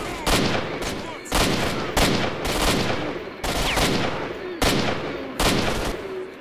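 Bursts of automatic gunfire in Stalker: Shadow of Chernobyl, five or six loud, close volleys each lasting under a second, separated by brief pauses, with no speech over them.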